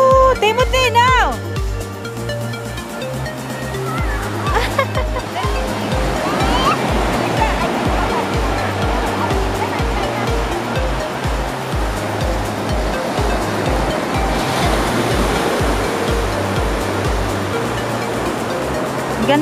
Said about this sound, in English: Look at the waves.